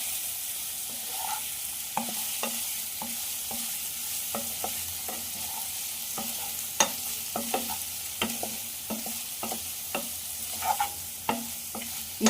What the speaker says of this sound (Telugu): ఇప్పుడు ఒక్కసారి కలిపి ఇప్పుడైతే కొంచెం మెల్లగా కలిపెట్టుకోండి